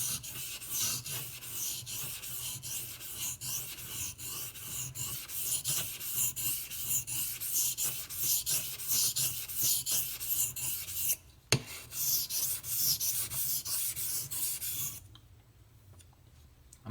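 Convex edge of a Ganzo folding knife being resharpened on a whetstone, a long run of rhythmic raspy strokes back and forth, close and steady, pausing briefly once before stopping near the end.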